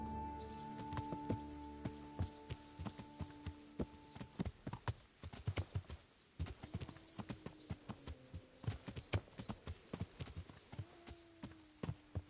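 A horse's hooves clip-clop at a steady walking pace in the video game Kingdom Come: Deliverance, clear and close, over sustained musical tones and a soft background ambience.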